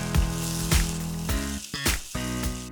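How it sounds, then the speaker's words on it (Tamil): Capsicum sautéing in a hot pan, a steady sizzle broken by a few sharp stirring or scraping bursts, with no talking. "இப்போ இதை வதக்கிக்கலாம்."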